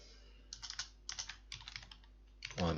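Computer keyboard keys tapped out in short quick bursts while a name is entered, close and fairly quiet, separated by brief pauses, with a louder sound at the end.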